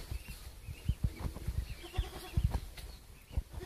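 A goat on a rural Ukrainian village farm gives a few short bleats over scattered farmyard thumps and rustling, with birds faintly in the background.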